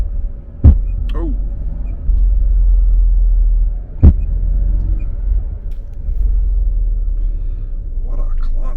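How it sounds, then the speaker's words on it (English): Two sharp, loud clunks from a car's rear differential while driving, a few seconds apart, over a steady low road rumble, with brief voices in between. "you can hear the clunk in the car"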